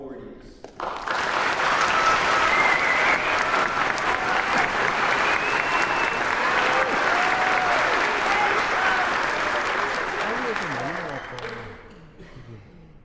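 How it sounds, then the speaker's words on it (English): Sustained applause from a large audience at a Basic Combat Training graduation ceremony greets the honor graduates. The clapping swells fast and holds steady for about ten seconds, then tapers off as a voice resumes. "Please join me in a round of applause for the honor graduates and all awardees"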